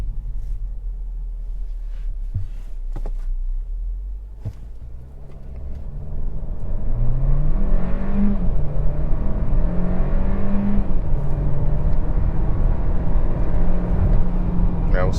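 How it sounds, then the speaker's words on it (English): 2022 Hyundai Kona N Line accelerating in sport mode, heard from inside the cabin: engine note climbing through rising gears after a quiet idle with a few clicks, then a loud sustained pull, with a voice speaking briefly. "Let's go ahead and put in a sport for a minute, do a quick little acceleration."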